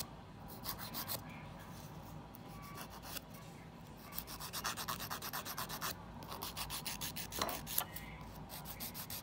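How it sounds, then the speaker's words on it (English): A nail file rasps over dip powder nails in quick repeated strokes, a close, dry scratching that comes in bursts with short pauses between, with no talking. "I'm just going to kind of file them"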